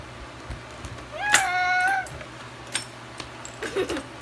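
A person's voice imitates a cat's meow once, a drawn-out rising and falling mew, with faint background noise and a few soft sounds around it.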